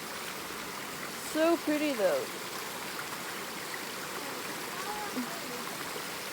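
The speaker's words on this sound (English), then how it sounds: "river crossing." River stream at a trail crossing on the Appalachian Trail in Virginia, a soft steady rush of water running underneath throughout, while a person speaks briefly over it near the start.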